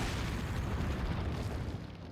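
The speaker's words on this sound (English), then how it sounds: "Looked away from the explosion" A loud, rumbling explosion in Resident Evil 4, a dense low boom filling the whole stretch and fading slightly toward the end, with no voices over it.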